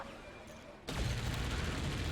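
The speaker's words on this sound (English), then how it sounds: "He's going to be firing right for that cannon, try and get it to blow up." Cannon fire in the strategy game Forts: after a quiet lull, a sudden loud boom opens a dense rumbling barrage of shots and impacts that carries on steadily to the end.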